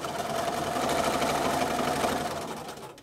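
A sewing machine runs steadily while free motion quilting spirals, giving a continuous, close, fairly loud whirring stitch rhythm that tapers off at the end, with no talking.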